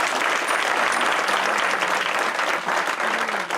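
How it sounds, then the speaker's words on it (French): A church congregation applauds to acclaim the Lord, with dense, loud, sustained clapping from many hands filling the room. "On va acclamer le Seigneur"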